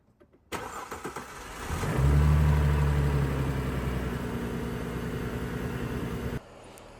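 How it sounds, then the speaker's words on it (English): A Mercedes car engine cranks briefly and catches, then settles into a steady idle with a faint belt whine, running close and loud without any voices. "as you could see, the engine starts right up."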